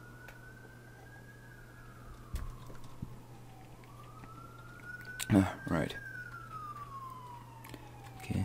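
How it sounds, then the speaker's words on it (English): Ambulance siren outside, rising and falling in long wails at moderate distance beneath a steady low hum, with a couple of brief knocks and a short spoken word. "Okay, ambulance, shut up."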